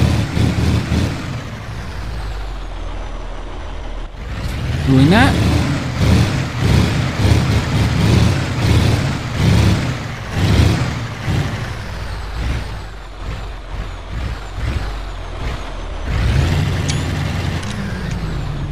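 An International 9400 Eagle truck engine runs at close range, a loud, rough diesel rumble with air brake hisses, idling and revving in pulses after a quieter start; a voice speaks briefly.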